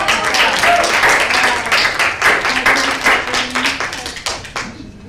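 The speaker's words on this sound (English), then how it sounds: "A big round of applause for all of us here" Audience applause following a game, dense mixed clapping with some murmured voices, loud and sustained for about four seconds before fading quickly to quiet.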